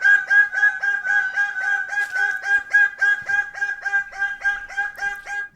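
A bird calls loudly and repeatedly at close range, a rapid run of harsh, evenly spaced clucking notes that continues throughout with no narration audible over it.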